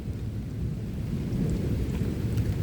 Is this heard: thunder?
yes